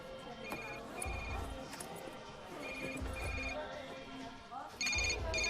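A mobile phone ringtone rings repeatedly in a tonal, bell-like pattern. It plays in a room under steady background sound, with several bursts spaced across the clip.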